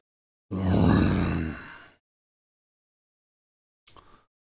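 A voice imitating a deep, low, drawn-out yawn for a spirit character in a tabletop role-playing game, one long groaning breath of about a second and a half, followed after a pause by a brief, faint creak.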